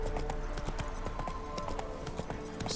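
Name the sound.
horse galloping in The Witcher 3 video game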